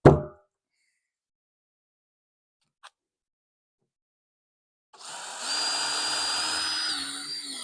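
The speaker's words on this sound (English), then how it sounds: "I'm going to use a 1/2 inch bit, like I said, for the starter hole" A power drill with a 1/2 inch bit makes a starter hole, whirring steadily and fairly quietly for about two and a half seconds after a brief knock and a long stretch of near silence.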